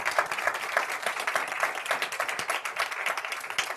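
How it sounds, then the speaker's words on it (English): Audience applause for Jose Vilson at a talk, a steady wash of many hands clapping at moderate level throughout, with no voices over it. "Let's give him a round of applause."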